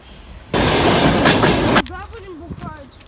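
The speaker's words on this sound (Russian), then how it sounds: "Кстати, вон электричка." An electric commuter train roars past close by near Pavlovsk station in a loud, noisy rush lasting about a second, then cuts off as a voice speaks afterward.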